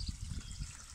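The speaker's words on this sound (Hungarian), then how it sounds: "Itt elengedem ezt a tartályt vízzel." Water gushes out of a released tank at an outdoor shower setup, a steady rushing splash that runs throughout, close and fairly loud.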